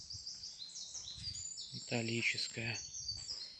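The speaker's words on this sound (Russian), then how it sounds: "птички поют" High, bright chirps of small birds singing outdoors near the lake and mineral springs of a forest sanatorium, with a voice speaking over them.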